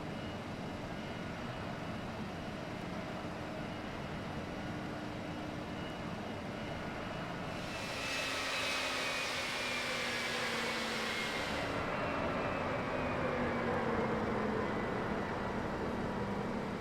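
An Embraer jet in the FSX flight simulator approaches to land, a steady engine roar with a rising whine and a brief louder surge midway, with no voices.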